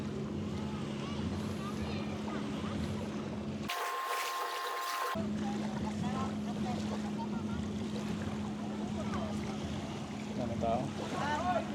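Boats on the sea off Boracay's back beach in rough monsoon weather, a steady engine drone under constant surf and wind noise, with a brief spoken question partway through.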